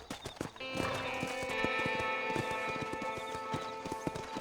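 Horse hooves clip-clop at a gallop in the Red Dead Redemption video game, with an occasional whinny, a steady close rhythm layered over background game sounds.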